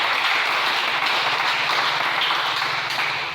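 A church congregation applauding to acclaim the Lord, dense steady clapping from many hands, loud and sustained for a few seconds before starting to fade.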